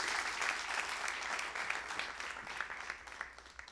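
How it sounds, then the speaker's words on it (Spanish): Congregation in a Spanish-language church service applauds in praise, a soft, distant wash of many hands clapping steadily and gradually fading. "Démosle un aplauso a nuestro Señor."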